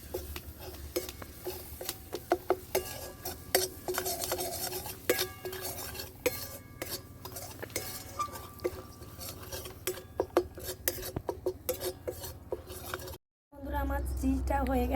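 A spoon stirring flour and milk powder in a bowl for a homemade pizza, with rapid repeated scraping and clinking strokes against the bowl, close and fairly loud, ending in a brief cut and a low hum.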